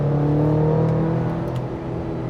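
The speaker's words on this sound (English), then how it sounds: "you got to floor it and wait for that turbo to spool up and that power to kick in" A 2025 GMC Canyon AT4X pickup pulls hard under full throttle, its turbocharged engine droning steadily from inside the cabin as the tone climbs slightly, loud and continuous without talk.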